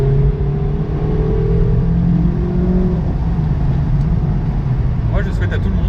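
A 184 hp Mazda MX-5 cruises at 80 km/h, its engine a steady, loud mid-low drone with rising and falling tones, mixed with road and wind rumble.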